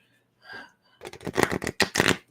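A clumsy shuffle of psychic reading cards: one soft shuffle, then a dense run of riffling and slapping card sounds, close up and clear.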